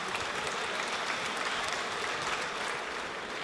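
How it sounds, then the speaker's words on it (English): A boxing crowd applauds the fighters after a six-round bout in New York, a dense, steady wash of clapping filling the arena without pause. "a round of applause for the fighters"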